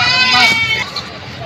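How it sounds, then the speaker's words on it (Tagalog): Goats bleat loudly and close by in a crowded goat market in Padre Garcia, Batangas, with several overlapping calls over background crowd noise. "Yun, napakaraming kambing."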